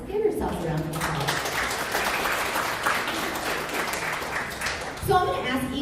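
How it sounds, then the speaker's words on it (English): Athletes at a National Girls & Women in Sports Day reception applaud themselves, steady dense clapping for about five seconds that breaks off as a voice begins speaking at the end. "So give yourselves a round of applause"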